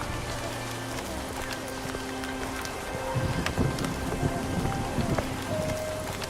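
Heavy rain pours steadily on a rainy night, a dense constant hiss, with low thunder rumbling and crackling beneath it that swells in the second half; no voices.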